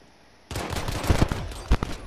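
Rapid burst of Renetti pistol shots in Warzone, starting abruptly after a short quiet moment, with several sharp, close, heavy reports in quick succession over about a second and a half.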